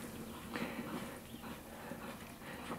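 Hoofbeats of a horse cantering during a youth riding clinic, a steady rolling three-beat clip-clop repeating evenly at moderate distance over a faint background hum.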